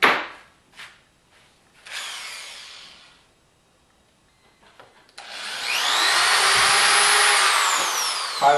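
A power drill whirs in short bursts, then runs steadily and loud for several seconds as it drills a pilot hole, with brief quiet gaps earlier.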